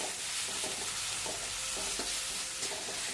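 Chopped green chillies and ginger-garlic paste fry in a pan, giving a steady bright sizzle with soft scraping strokes of stirring, close and continuous without speech.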